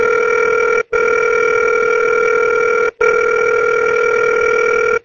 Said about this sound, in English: Leave a voice message, press 1, or just wait for the tone.